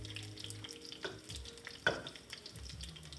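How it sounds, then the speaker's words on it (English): Battered cauliflower sizzles steadily in grapeseed oil in a cast iron skillet, a close, continuous crackle with small pops and light clinks of stirring. "Can y'all hear that sizzle?"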